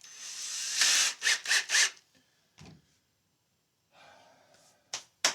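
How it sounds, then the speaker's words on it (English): A hand drill bores pilot holes for screws into a guitar body in short whirring bursts, a quick cluster of spurts early on and then a few more separated by quiet pauses. "Right, now we drill the holes."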